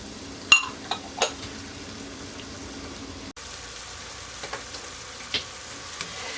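Onions and celery cook gently in a pot for chicken gnocchi soup, a quiet, faint sizzle under a few sharp clinks and scrapes of a utensil against the pot, with no talk.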